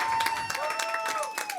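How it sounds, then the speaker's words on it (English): Audience applause at a Splatoon 3 tournament, the UNCG Spartan Invitational 2023: a short burst of steady clapping from a crowd, with a voice talking over it. "And one more round of applause for Phil, the one who organized all this"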